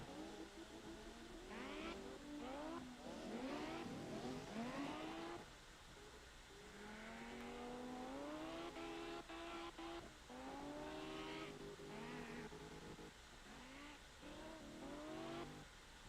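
Cars drifting in the CarX Drift Racing video game: engines rev and whine with rising and falling pitch sweeps, continuous and loud throughout, with tire noise under the repeated throttle swells.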